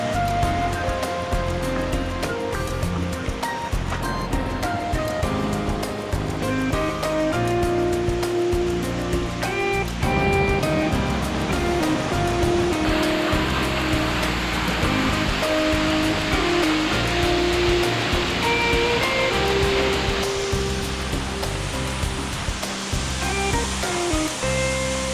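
Virgin Falls in Glacier National Park heard up close: a loud, continuous roar of falling water that fills the whole stretch evenly, with no voices.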